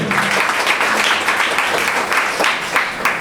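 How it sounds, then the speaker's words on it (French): Audience at a kindergarten graduation ceremony applauding a graduate, a steady, dense wash of many hands clapping throughout, with a faint voice briefly underneath at the start. "Les parents applaudissent, l'auditoire applaudit."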